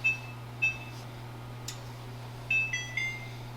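A kitchen oven timer gives short electronic beeps while being set for a cheesecake bake: a couple of single bleeps, then a quick cluster of three, fairly close over a steady low hum.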